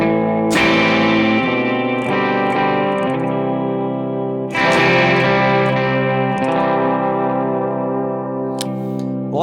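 A Citizen CJ Pro electric guitar on its bridge pickup plays through overdrive and reverb pedals: two loud distorted strummed chords ring out and decay with reverb tails, and there is no talk.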